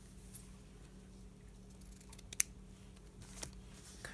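A few quiet snips of scissors cutting lace for a journal, faint close clicks with one sharper cut, over low background hum.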